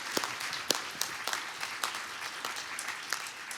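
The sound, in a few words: conference audience applause for presentations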